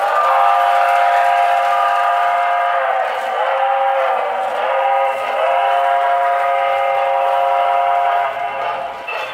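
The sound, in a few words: toy train whistle on Marx O-27 layout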